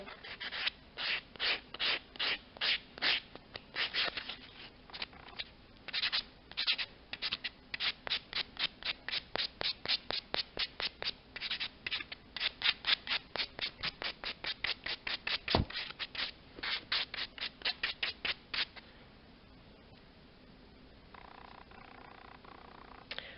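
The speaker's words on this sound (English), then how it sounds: "Using this red sanding block, go over gently both ways, like so" Rhythmic back-and-forth scraping strokes of a sanding block on a nail, close and steady, dozens of quick passes before stopping near the end.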